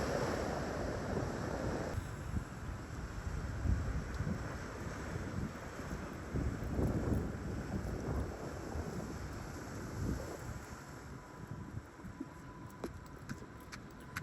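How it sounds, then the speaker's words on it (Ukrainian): Atlantic waves breaking against rocky cliffs on the Portuguese coast near Peniche, a continuous heavy roar of surf with gusting wind buffeting the microphone and no voices. "як хвилі розбиваються об скелі"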